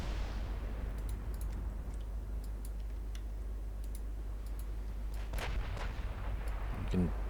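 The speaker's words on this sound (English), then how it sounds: "We're already taking incoming fire from the German battleships." Distant booming of German battleship artillery in the naval game Ultimate Admiral Dreadnoughts; low continuous rumble with scattered ticking clicks and a heavier thump near the end.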